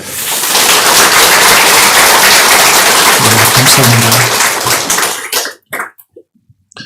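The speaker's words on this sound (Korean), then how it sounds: "수고하셨다고 박수로 감사해 주시면 감사하겠습니다" A church congregation breaks into loud, dense applause that fills the room for about five seconds, then thins to a few scattered claps as a voice speaks briefly.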